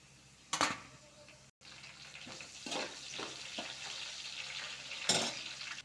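Coriander seeds, cumin, mustard seeds, sesame, chilli, onion and curry leaves fry in hot oil as a tempering for chivda. A steady sizzle carries sharp crackling bursts and a few stirring clatters up close.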